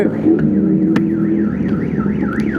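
Parked car's alarm triggered by a passing Kawasaki Z900 motorcycle, wailing in a fast rising-and-falling electronic siren pattern over a low rumbling engine, close and loud.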